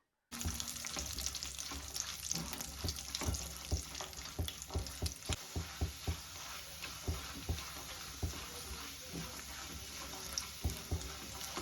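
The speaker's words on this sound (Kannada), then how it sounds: "ನಾನು ಬಾದಾಮಿ ಗೋಡಂಬಿ ದ್ರಾಕ್ಷಿ ಇದು ಮೂರು ಇದು ಮೂರು ಹಾಕೊಂಡು ಸ್ವಲ್ಪ ಫ್ರೈ ಮಾಡ್ಕೊಳ್ಳೋಣ" Almonds, cashews and raisins frying in ghee give a steady, dense sizzle with frequent light stirring clicks and scrapes throughout, close and continuous.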